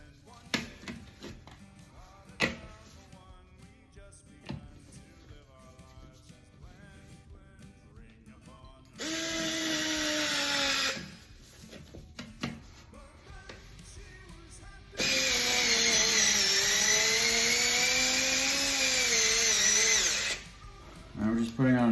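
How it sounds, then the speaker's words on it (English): A power drill drives drywall screws through a thermostat wall mount in two long whirring bursts that rise and slow in pitch, with someone talking and light handling clicks between them. "And put the drywall screws back in."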